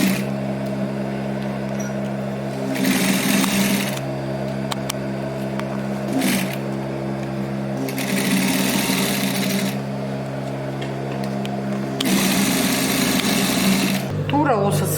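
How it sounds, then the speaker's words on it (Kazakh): Sewing machine stitching fabric for a children's garment, running in a few steady whirring bursts with pauses between them over a constant background hum, near and fairly loud. "Енді машинкаға барып тігіс тігейік"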